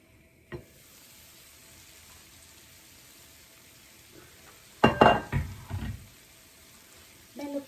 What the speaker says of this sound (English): now we are going to cook till the tomatoes are tender